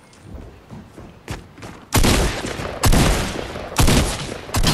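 Loud bursts of AK rifle gunfire, several sharp volleys ringing out close by after a stretch of quieter, scattered shots.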